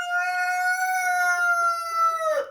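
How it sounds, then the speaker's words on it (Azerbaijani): A rooster at a backyard poultry yard gives a single loud, sustained crow lasting over two seconds, close and clear with no talk, ending in a rough break. "xoruzun səsi batsın"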